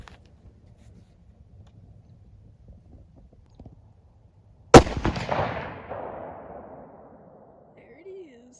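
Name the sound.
rifle gunshot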